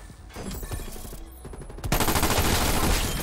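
Rapid bursts of automatic gunfire from the new VARGO 52 gun in a first-person shooter video game, a steady loud rattle that swells sharply louder and denser partway through, continuing without pause.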